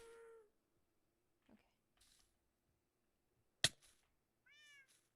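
Short cat meows from a video game, a few separate high mewing calls spaced apart with quiet gaps and a sharp click between, faint and without talk.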